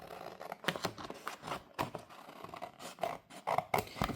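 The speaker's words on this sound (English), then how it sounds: "Just quickly cut these out." Scissors snip out paper tags for a handmade teddy journal, a quick run of short, crisp cuts and paper rustles close by, with no talking.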